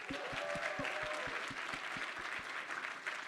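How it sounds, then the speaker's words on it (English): Audience applause at a startup demo day, steady dense clapping with a few distinct louder claps standing out in a regular rhythm, fairly faint overall and without speech. "Can we get a round of applause?"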